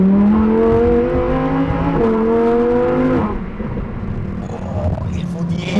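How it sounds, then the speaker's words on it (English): A Lamborghini Huracán STO V10 revs loudly up close in rising harmonic sweeps for about three seconds, then settles into a lower rumble while people talk over it. "Oh, il V10, wow."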